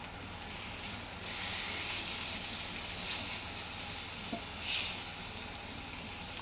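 Pork loin sears in a hot pan with a steady, close sizzling hiss that swells louder near the start and again briefly later, with no talking.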